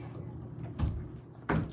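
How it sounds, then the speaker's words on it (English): Hotel room door at a DoubleTree by Hilton in Orlando, two faint muffled knocks or bumps about a second apart, heard distantly over a quiet room background. "Was that the door?"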